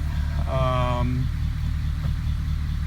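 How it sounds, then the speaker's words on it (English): A 1953 Pontiac Chieftain engine idles in a garage with a steady low rumble throughout, while a brief tonal whine rises over it near the start and a voice speaks in the background. "engine is running"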